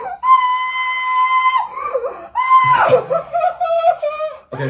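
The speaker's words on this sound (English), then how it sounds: "Just little like struggling screams." A performer in a recording booth lets out short, strained bursts of struggling screams. The voiced, wavering cries come in quick succession with brief gaps between them.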